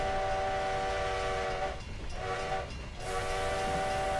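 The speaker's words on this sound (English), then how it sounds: "I keep sounding that whistle way too early" Locomotive whistle in the Trackside train simulator game, a loud sustained multi-tone blast that breaks off twice in quick succession, then carries on over the rumble of the engine.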